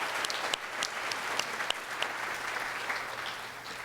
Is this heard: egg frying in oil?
no